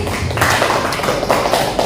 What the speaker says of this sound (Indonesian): tepuk tangan untuk Pak Agus